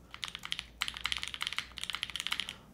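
Typing on an O-ring mounted mechanical keyboard, a brisk run of crisp, close key clacks in quick rhythmic bursts with a short pause partway, heard alone.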